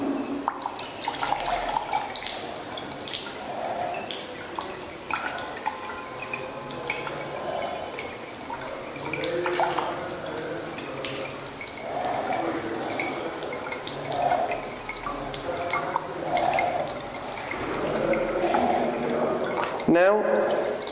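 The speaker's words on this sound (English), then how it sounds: "Now we try to dissolve aluminium trichloride in water." Soft, irregular water drips patter steadily at a lab bench while aluminium trichloride is dissolved in water, faint and close, with a brief sharper splash near the end.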